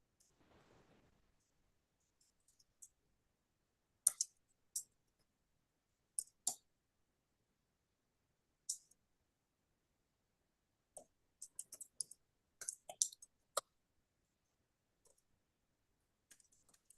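Sparse computer keyboard typing, soft individual key clicks and short quick bursts spaced irregularly across a quiet room, faint and close, with long pauses between runs of keystrokes.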